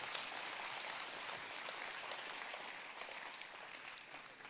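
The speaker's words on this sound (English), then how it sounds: "So let's give them another round of applause." A church congregation claps after a performance, a soft, steady, fairly distant wash of applause that slowly fades over a few seconds.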